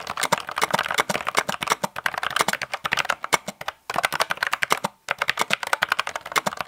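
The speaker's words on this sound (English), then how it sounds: "Let's put this through a quick typing test." Rapid, continuous clacking of keys on a Logitech low-profile mechanical keyboard with tactile quiet switches, close and crisp, with a couple of short pauses and no talking.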